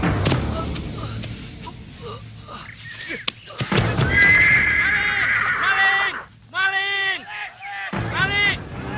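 A horse whinnies in a classic Indonesian film scene, giving several loud, wavering neighs close by toward the end, after a stretch of rustling outdoor background noise.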